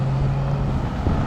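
Strong wind roars steadily across an outdoor microphone in Canada, a dense continuous rush with a low hum beneath it, loud and unbroken throughout.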